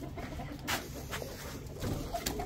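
Backyard hens cluck softly in short, scattered bursts at a moderate distance, quiet and intermittent against low ambient noise.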